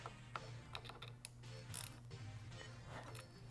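A wrench tightens a 10mm nut on the clutch lever perch of a Honda CBR500R, giving close, quick ratcheting clicks and metallic ticks over a steady low mechanical hum.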